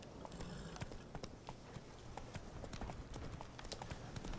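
Horse hooves clip-clop in a steady galloping rhythm in The Witcher 3 video game, faint and alone with no talk over them.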